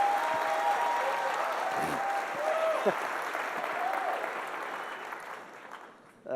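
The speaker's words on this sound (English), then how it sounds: "That standing ovation would mean a lot more if I know you didn't rehearse it" A conference audience gives a standing ovation at Startup Grind Global 2016, with dense, sustained clapping that fills the hall at steady loudness and fades slightly near the end.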